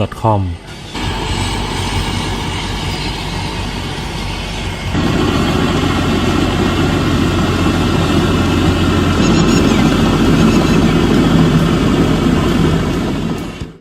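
A heavy Hino P114 turbo diesel engine, 320 horsepower, powering a rotary tiller tractor, rumbles steadily, its drone growing louder after a few seconds and holding at a strong, continuous level.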